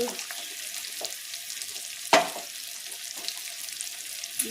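Paneer bharta frying in a pan after coriander and cumin powder go in, a steady close sizzle with soft stirring scrapes and one sharp clink partway through.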